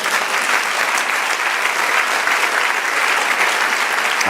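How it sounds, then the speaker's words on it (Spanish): A church congregation in New York breaks into sustained, steady applause, a dense wash of clapping filling the space without a break. "Denle un aplauso al Señor."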